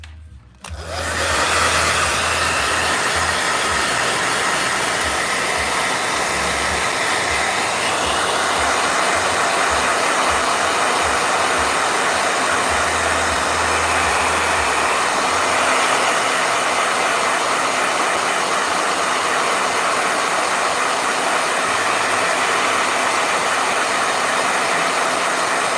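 A blow dryer switches on after a short click and runs loud and close, a constant airy roar with a low motor hum that holds steady for the whole stretch without any talk.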